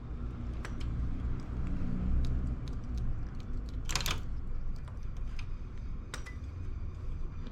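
Knitting machine carriage sliding across needles, a continuous rumbling whir with scattered small clicks and one brighter rattling burst midway, close and steady throughout with no talk.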